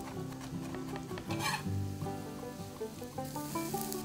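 Garlic and onion fry in hot oil with a soft sizzle, broken by scraping stirs and light clinks of a utensil against the pan, quiet and close with no voices.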